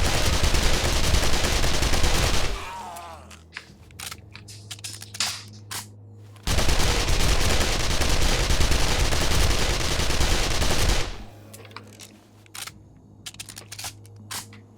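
A weapon fires in the 7 Days to Die video game, heard as two long, loud bursts of rapid automatic gunfire, each followed by a few seconds of mechanical clicks and reload clatter.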